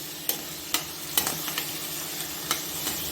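Paneer cubes frying in a pan for a homemade Punjabi paneer curry, a steady low sizzle broken by several sharp stirring scrapes, close and moderately loud with no one talking.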